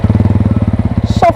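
A 2022 TVS Ronin motorcycle engine catches and settles into a steady, rapid low thumping idle, close and loud, with a brief higher mechanical squeal near the end.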